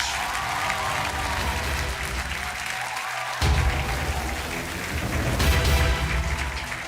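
Studio audience applause greets a contestant on a Portuguese quiz show, a steady, loud wash of clapping over a music bed that cuts and restarts midway, continuing to the end.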